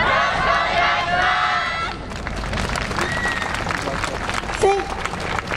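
A street audience at a YOSAKOI Soran festival performance in Sapporo claps along with busy crowd noise and babble, a steady wash of handclaps and chatter, with a voice ringing out over it.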